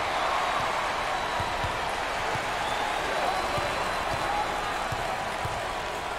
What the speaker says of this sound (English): Full house and a packed crowd, and they are into it tonight.